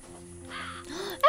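A single short owl call from the video game Fran Bow, faint and brief over a quiet background hum, ending in a sudden louder burst.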